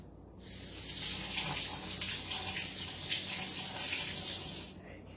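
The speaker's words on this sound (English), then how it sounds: "I'm going to rinse my hands real quick because these are kind of sticky" Water runs steadily from a tap as sticky hands are rinsed under it in a home kitchen, a continuous close splashing hiss lasting several seconds before cutting off.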